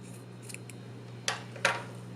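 Scissors trim yarn ends: two quick, crisp snips close by in a quiet room, the second a little sharper.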